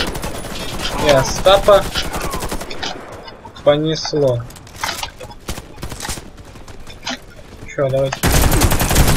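An XM8 LNG rifle fires in a video game, with loud rapid bursts and single cracks spread across the stretch, while someone talks between and over the shots.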